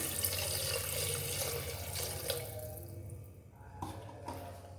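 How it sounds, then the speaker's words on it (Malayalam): Hot water poured into a pot of rice with coconut milk, a continuous close splashing stream that thins out toward the end with a few drips. "അതിനുശേഷം നമുക്ക് ചൂടുവെള്ളം ഒഴിക്കാം."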